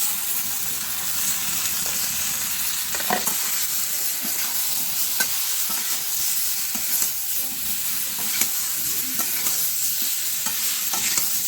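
Taro-potatoes frying in a pan with a spoonful of turmeric make a steady, close sizzle with sharp clicks of stirring, and no voices are heard.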